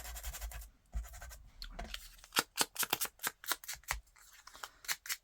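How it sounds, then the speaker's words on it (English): Scissors snipping and scraping around the edges of paper circular labels to rough them up, a series of close, crisp irregular cuts and scratches with short pauses between them and no talking. "So I'm just going to go round with my scissors and rough it up a little bit more."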